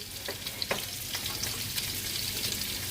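Boiled potatoes and long-cut capsicum strips fry in a pan, a soft continuous sizzle broken by a few light spatula clicks as the vegetables are stirred, fairly close and without talk.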